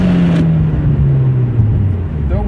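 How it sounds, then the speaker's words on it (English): A Hyundai Genesis Coupe with a faulty transmission grinds as it is forced into sixth gear. A loud, close engine drone slowly falls in pitch, and a rough mechanical rasp runs underneath. "if you don't want to hear the grind sound, turn that volume down"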